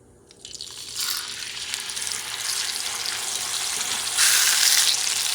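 Pork chops fry in a flat cast iron pan over medium-high heat: a steady hiss that swells after a quiet start and grows louder and brighter toward the end, with no talking.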